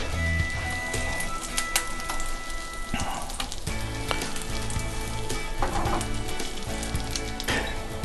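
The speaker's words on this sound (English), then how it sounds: "we wait until the bread is really nicely toasted. You can see that it's melting butter" Bread toasts in melting butter in a hot pan with a loud, dense, continuous sizzle up close, crackling like rain on a surface, with occasional brief scrapes.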